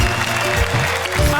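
Audience in a comedy hall applauds loudly and steadily, a dense wash of close clapping that fills the whole moment.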